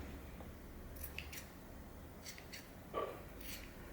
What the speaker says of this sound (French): vous pouvez à ce moment-là trouver un ciseau de couturière par exemple, un ciseau assez grand qui coupe bien.